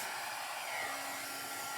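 A hair dryer blows steadily and loudly at close range, drying fresh paint on a small thrifted wooden box, a continuous broadband whoosh with no talk.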